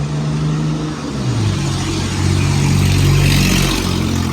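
A rough old car engine rumbles and revs up nearby on a street, a continuous low growl that rises and swells in intensity over a few seconds.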